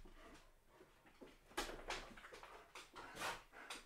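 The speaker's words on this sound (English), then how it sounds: "that's my dogs in the background" Several pet dogs at home during a livestreamed piano concert make faint, distant yips and whimpers in a few short bursts against a quiet room, with no talking.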